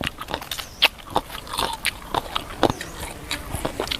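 Crunchy bites into batter-fried crispy salmon belly, heard as a rapid series of close, sharp crackling chews with short pauses between them and no talking.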